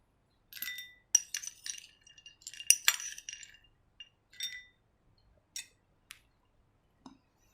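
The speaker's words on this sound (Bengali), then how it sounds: "এবার এর মধ্যে নিয়ে নেব কাবলি ছোলা।" Dried chickpeas spooned into a glass bowl, with scattered bright clinks and rattles of hard grains against glass coming in several short bursts, close and clear against silence.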